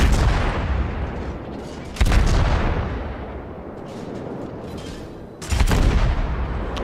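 Warship main guns firing in the naval battle game World of Warships, two heavy booming salvos several seconds apart, each with a loud onset and long rumbling decay over continuous background battle noise.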